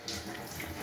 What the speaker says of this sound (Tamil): இதுக்கு தண்ணியை கொஞ்சம் விடுவேன்.